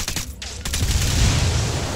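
In-game frag grenade going off in Ghost Recon Wildlands, heard as a loud, sustained low rumble that swells after a brief dip and carries on for over a second, with no talk over it.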